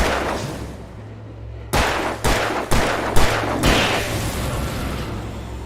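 Gunfire in the video game Alan Wake: five sharp, loud shots spaced about half a second apart ring out over a low droning background.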